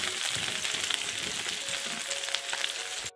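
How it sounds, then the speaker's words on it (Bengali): Chopped garlic sizzling in hot oil for a garlic pickle, a dense steady crackle and hiss with light stirring scrapes, close and continuous with no voices over it. "রসুনগুলোকে ভাজা হয়ে গেছে"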